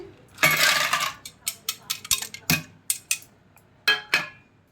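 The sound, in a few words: ice cubes dropped into a mixer jar for lassi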